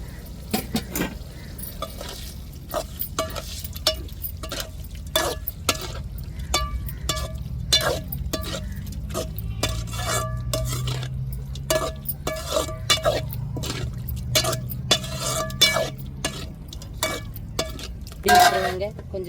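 Chicken liver cooking in a pan on a Sunday, with repeated metallic clinks and scrapes of a utensil against the pan over a steady low rumble. A brief louder burst comes near the end.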